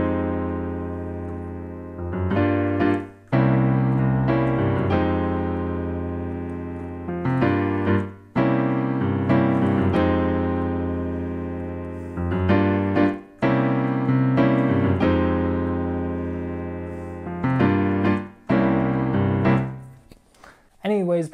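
Easy piano accompaniment with chords for a song, repeated sustained chords struck every couple of seconds in a steady pattern, full and close with no voice over it.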